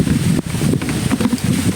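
Strong wind buffets the microphone outdoors near water with ducks and a boat, a loud continuous rumbling gust with brief dips, steady throughout.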